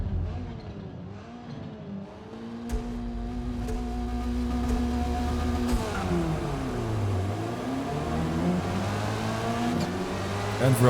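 Golf cars launching into an online race in Forza Motorsport, several engines droning and climbing in pitch together as they accelerate off the start, steady and moderately loud.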